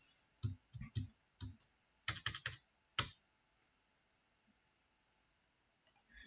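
Keys clatter on a computer keyboard in short quick bursts, close but quiet, followed by a few seconds of near silence and one last tap.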